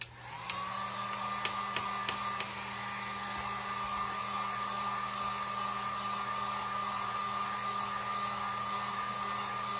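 A handheld heat gun running on its lower temperature setting gives a continuous blowing whir with a steady high whine, starting up at the outset and then holding constant and close, with a few faint clicks early on.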